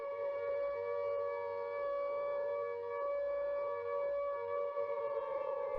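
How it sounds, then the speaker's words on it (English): An all-clear air raid siren from the London Blitz sounds a long, steady, unbroken tone, loud and close, holding level for several seconds with no voices. "After the all clear sounded, people could leave the shelters and go back home."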